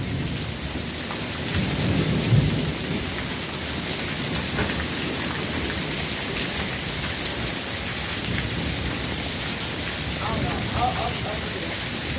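Steady heavy rainfall from a Las Vegas, Nevada thunderstorm hisses throughout, with low thunder rumbling near the start and again toward the end, loud and continuous.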